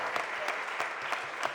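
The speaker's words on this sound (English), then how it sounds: "just give him a round of applause" Crowd at a mayor's press conference applauding a city council appropriations chair, a short steady burst of many hands clapping, fairly close and even throughout.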